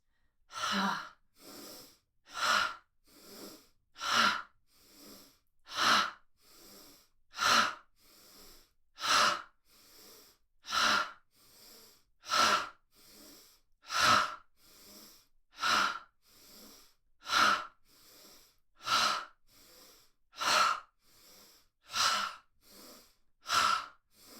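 Rhythmic yoga breathing during a chakra session, loud forceful exhales in a steady pulse about once every second, long and even, alone with no talk.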